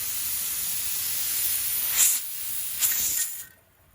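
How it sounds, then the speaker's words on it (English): Steady loud hiss of steam venting from a pressure canner, with two brief sharper surges, then cutting off abruptly near the end. "My timer just went off for 10 minutes of steam release"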